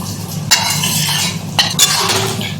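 Fish dropped into a pot of boiling water, with sharp utensil clinks and stirring knocks breaking through a steady bubbling hiss, close and alone with no talk.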